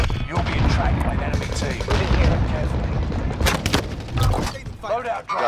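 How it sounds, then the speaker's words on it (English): Sniper rifle fire in the battle royale game Warzone on the Fortune's Keep map, loud gunshots mixed into dense continuous game noise, with a player talking over it. "I just got him with a sniper."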